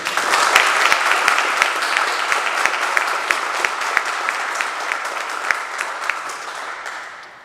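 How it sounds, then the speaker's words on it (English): Applause for a cadet's family at a ROTC commissioning ceremony at a college, with individual sharp claps standing out of the crowd before it tapers off and fades. "please join me in a round of applause for the family"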